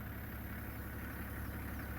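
Faint, steady low rumble of an idling safari vehicle engine, constant and even throughout with no other distinct sounds.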